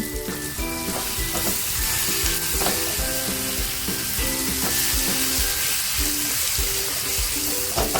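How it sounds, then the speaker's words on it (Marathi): Dried Bombay duck frying in a pan with a little kokum added for a spicy bombil masala, a continuous dense sizzle with stirring, steady and close, with a faint tonal music-like pattern beneath. "आपले बोंबील सुद्धा छान फ्राय झालेले आहेत थोडस कोकम टाकते"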